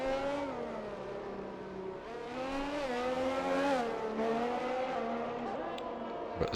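F1 race car from a racing video game lapping the Brazilian Grand Prix circuit, a close, high engine whine rising and dipping through gear changes, continuous with a faint tyre squeal.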